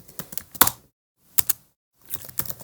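Someone types HTML code on a computer keyboard in three short bursts of close, crisp key clicks separated by brief silences.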